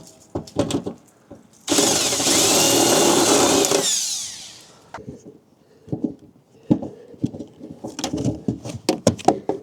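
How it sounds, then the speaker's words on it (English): A power drill bores a hole through a plastic floor plug in a truck, a loud continuous whine lasting about two seconds that winds down, with scattered knocks and handling clatter before and after. "I'm just going to drill a hole in that, the correct size, and run the cable up through that"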